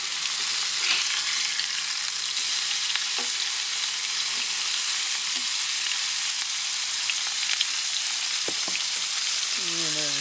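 Smash burger patties sear and sizzle in a hot pan, a steady, loud frying hiss with a few faint clinks and scrapes, and no talk over it.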